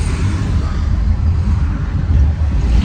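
A road vehicle passing close by, a loud steady rumble and rush of engine and tire noise that holds throughout with slight swells, no speech.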